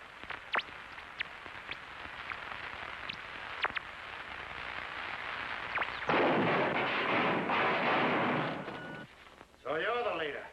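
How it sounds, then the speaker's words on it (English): Explosions and bursts of gunfire in a radio serial drama, with sharp cracks early on and then a long, loud, roaring blast that dies away. Voices speak over the action. "Set those bombs off."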